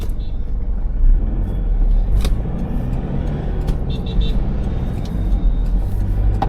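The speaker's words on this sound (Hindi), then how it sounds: "क्रिस्टा फुल स्पीड में जा रही है" A Toyota Innova Crysta family MPV at full speed, a steady low road rumble and engine drone with tire noise filling the whole stretch, a few faint clicks and tones riding on top.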